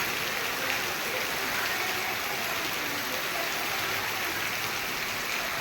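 Heavy rain pours down in a steady, dense, unbroken hiss of water hitting surfaces, loud and even throughout with no voices.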